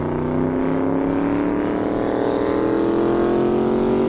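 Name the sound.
world's fastest Corvette racing on airstrip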